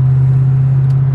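A 1986 Chevrolet Corvette with TPI and a 4+3 manual gearbox cruises along, its engine giving a steady, loud low drone that holds evenly throughout with no shifts or revs.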